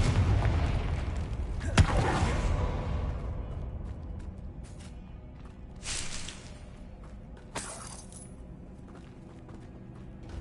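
Confringo fire spell blasts from the Hogwarts Legacy video game: a rumbling burst followed by several sharp, loud impacts spaced a few seconds apart over a low, continuous background roar.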